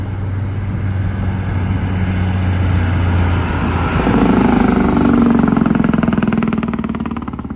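Overloaded gypsum mining truck with a manual Detroit Cummins engine pulling hard in low gear, a loud close diesel drone that deepens and rises in strain midway, steady throughout.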